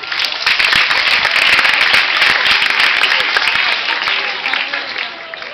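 Loud, dense applause for graduates at a commencement ceremony, a large crowd clapping continuously and tapering slightly toward the end.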